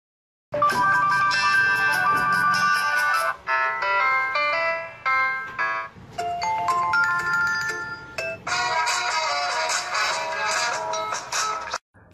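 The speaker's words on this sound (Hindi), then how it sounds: "चलिए अब चेक करते हैं फ़ोन के रिंगर को। इसकी साउंड क्वालिटी आपके सामने है।" A Tecno Camon i Air phone plays a bright, melodic electronic ringtone loudly and close, in several repeating phrases separated by brief pauses, with no talking.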